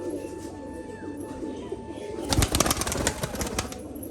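Domestic pigeons coo softly nearby, then a burst of loud wing flapping takes over as birds take off and flutter, with no speech.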